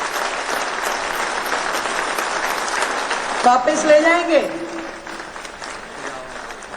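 An audience at a ceremony flagging off 100 new buses applauds the transport minister and officials with steady, dense clapping. Midway, someone briefly speaks over it before the applause carries on more softly.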